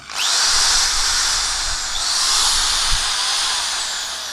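Maktec by Makita household electric drill spinning freely under trigger control, a loud high-pitched whine that ramps up quickly, dips briefly, then winds up again and holds at speed before easing slightly, with no talking.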